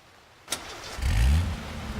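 A working car in the H1Z1 video game starts with a sharp click, then its engine turns over and revs up loudly before settling into a steady mid-pitched running drone.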